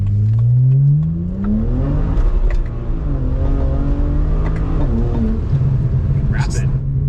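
A street car with a drag-tuned transmission accelerates hard. Loud engine drone climbs in pitch, drops sharply at each gear shift and climbs again, with a steady rumble throughout.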